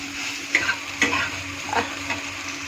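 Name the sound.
soybean chunks being stirred and fried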